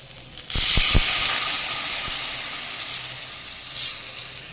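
Water splashes into a hot pan of frying potatoes with ground spices and ginger paste, a sudden loud hiss settling into a steady sizzle that slowly fades, with a few clanks at the start.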